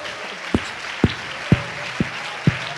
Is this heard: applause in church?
yes